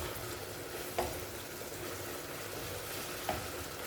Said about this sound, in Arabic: دوك يبدا يتقلى البصل، يبدا يتقلى شويه هكذا